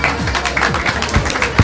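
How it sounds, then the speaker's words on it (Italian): Brief, dense clapping from a small group celebrating a new pizzeria opening, close and lively, with a few voices mixed into the short burst of applause. "Facciamo un applauso!"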